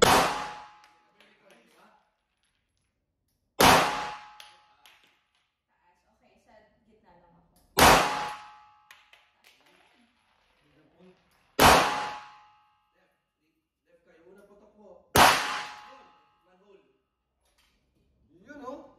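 Five sharp metallic clangs of gunshots hitting steel plates at a live-fire range, spaced a few seconds apart, each ringing briefly, with quiet voices talking between them.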